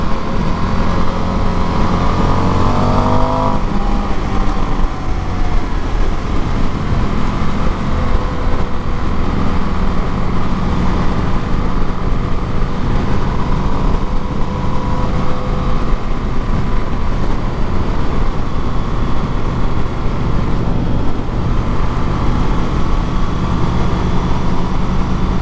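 An Indian FTR 1200 motorcycle engine drones loud and steady throughout a test ride, with a brief rising rev early on and constant wind roar.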